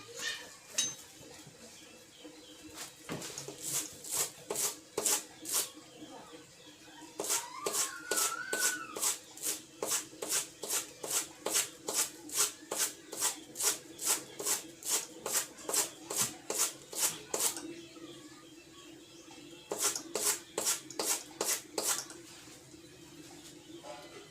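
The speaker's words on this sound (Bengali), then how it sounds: "এটাকে প্রথমে আমি কী করছি চিরুনি দিয়ে এটাকে ঘষে নিচ্ছি একটু" A comb rubbed briskly across a piece of material, giving rapid, evenly spaced scraping strokes in long runs with short pauses between them, close and fairly soft.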